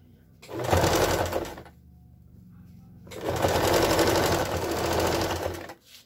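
Sewing machine stitching a fabric strip onto a piece for a kitchen water-jug cover set, running in two steady bursts of rapid loud whirring with a short quiet pause between them.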